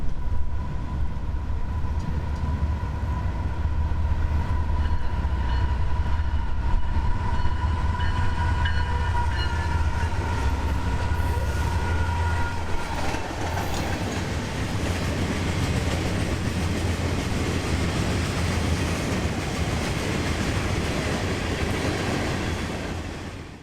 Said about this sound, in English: about 20 minutes after the southbound BLF 722 would come southbound FEC 101, mixed freight for Miami out of Jacksonville's Bowden Yard